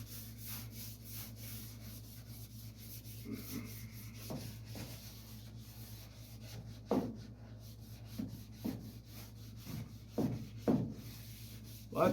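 Repeated rasping strokes of hand sanding on the body of a chopped 1937 Pontiac, quiet at first and then growing firmer and more distinct toward the end.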